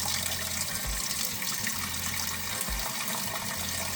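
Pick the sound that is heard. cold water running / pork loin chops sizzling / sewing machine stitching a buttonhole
cold water running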